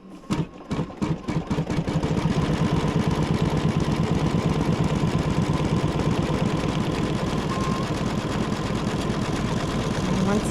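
An embroidery sewing machine top stitching a piece during hooping of dog poop bags, starting with a few separate stitches, then running in a fast, steady, close mechanical rhythm that holds evenly loud throughout.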